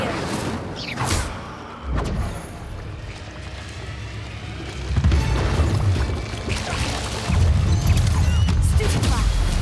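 The Incendio fire spell is cast in Hogwarts Legacy amid combat, with a loud, dense whooshing roar and rumbling bursts that swell and sustain over continuous game noise.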